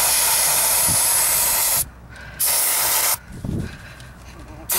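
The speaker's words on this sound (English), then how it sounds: "Brake parts cleaner gets used on everything but brake parts." Brake parts cleaner sprays from an aerosol can during a camper wheel bearing service, two loud hissing bursts of about half a second and 1.5 seconds, separated by short quiet gaps.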